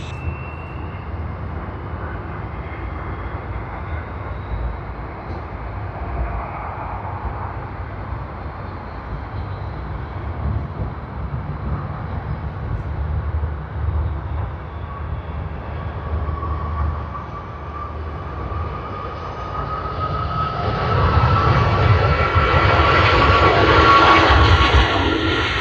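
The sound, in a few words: airliner takeoff roll at Sydney Airport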